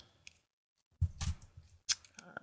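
Scissors are handled inside a craft bag of yarn and hooks: a faint tap, then a close rustle-and-clack cluster and a sharp metallic click, all without talk.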